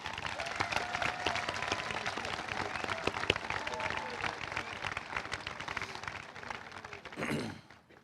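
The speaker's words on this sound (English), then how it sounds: "Please join me once again in a round of applause for Mr. Reed and the Bellevue High School Band of Gold" A large crowd applauds the Bellevue High School Band of Gold at a high school graduation ceremony, broad dense clapping sustained for several seconds before tapering off near the end.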